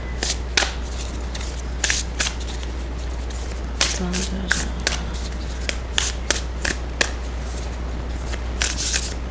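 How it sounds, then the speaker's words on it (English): Tarot cards riffle and snap in repeated quick bursts, close up, over a low steady hum, with a brief murmur of voice in the middle. "can you imagine if you could see the tarot cards while you're shuffling?"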